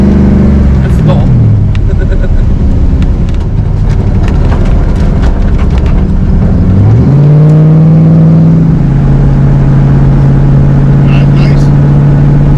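A loud 1,200 hp turbocharged Coyote V8 in a 1986 Ford Mustang Foxbody street car revs hard and climbs in pitch, dropping briefly as it shifts, then holds a steady high drone.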